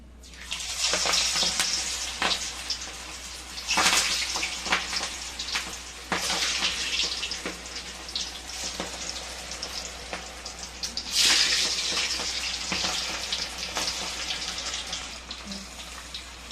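Raw banana vadas, medium-thick slices, drop into hot oil and fry with a steady loud sizzle, bursts of crackling swelling as new pieces go in.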